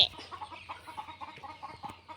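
Minecraft chickens cluck steadily in a quick, rhythmic run of short clucks, fairly close and alone without any talking.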